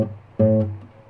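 A single short, muted note from a staccato 12-bar blues bassline played with the thumb, thudding briefly with a low, warm tone and a quick damped decay.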